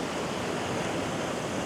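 Seawater pouring over shoreline rocks near Point Cartwright, spilling across the top like a small waterfall: a continuous, soft, even rushing wash with no breaks and no voices.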